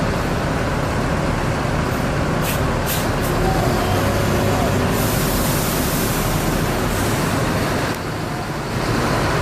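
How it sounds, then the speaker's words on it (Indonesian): An ANS intercity bus with air suspension passes on a busy Indonesian road, a loud continuous engine and road roar amid dense traffic noise, with brief hissing bursts along the way. "Bis ANS 1626 air suspensi."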